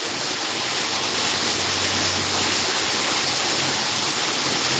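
Heavy rain pours in a dense, continuous hiss that sounds close and loud, holding steady without a break and with no voices over it.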